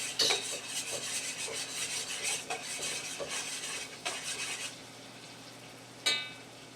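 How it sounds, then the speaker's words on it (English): A spoon scrapes and rasps in a pan while ingredients for chicken pot pie are stirred. Repeated close rubbing strokes run for several seconds, then a single sharp clink follows after a pause. "Just kind of stir them like that."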